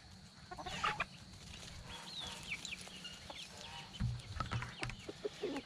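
Chickens cluck and chatter nearby in a continuous flock murmur, with a few sharper squawks rising above the low background.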